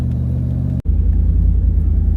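A 1970 Triumph Stag's engine rumbles low and steady, a brief cut partway through before the deep throbbing idle resumes, close and loud.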